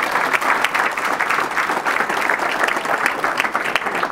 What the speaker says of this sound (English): Round of applause for our sponsor,